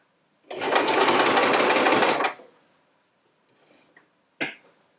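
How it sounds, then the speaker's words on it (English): A sewing machine runs a short burst of stitching through quilt pieces fed under the presser foot, a loud, close, even buzz lasting nearly two seconds, followed by a few faint handling clicks and one sharp thump. "You feed it under the foot again, and you do exactly the same, leaving a few stitches in between."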